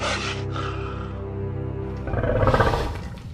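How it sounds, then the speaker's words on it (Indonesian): A wild wolf growls low and soft inside a cave, a sustained rumbling snarl that swells a little louder toward the end, with no other sounds around it. "Terdengar geraman pelan dari seekor serigala."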